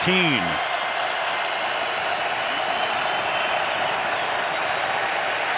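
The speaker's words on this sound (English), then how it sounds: "Crowd roaring on a 2nd down and 14." Football stadium crowd roaring at a Cowboys vs Raiders game in 2017, a steady dense wash of crowd noise throughout, loud and sustained, with a brief whistle-like tone at the start.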